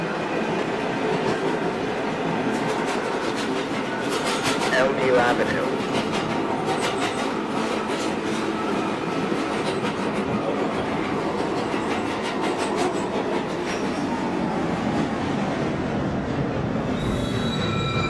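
An NYC R62 subway train on the 1 line runs loudly with a steady roar and rhythmic wheel clatter, and several long, high-pitched wheel squeals come and go through much of the ride.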